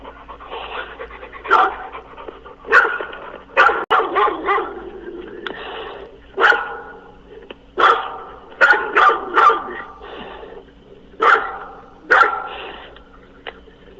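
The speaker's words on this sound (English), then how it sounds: "The one that's barking is the one that attacked or tried to attack on the left." A dog barks in irregular bursts, sharp yelps and woofs clustered over several seconds, fairly close with a faint background hum.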